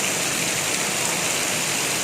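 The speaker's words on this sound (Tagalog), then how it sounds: "Humihina na yung ulan, guys." Steady heavy rain pouring down, a dense continuous hiss with no pauses, close and loud throughout.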